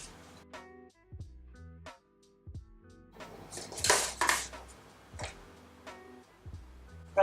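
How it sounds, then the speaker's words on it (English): An offset spatula spreads cake batter in a pan with a series of light metallic scrapes and taps, some clinking, and quiet pauses between strokes, with no talking. "now with an offset spatula, just spread it around evenly to the corners"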